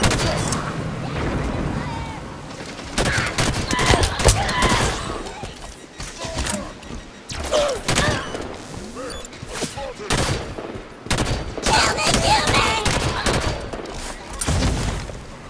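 Dense battle gunfire from Halo 5: Guardians, with rapid bursts of automatic fire, single shots and heavy thumps layered together, loud and close, while voices shout over the fighting.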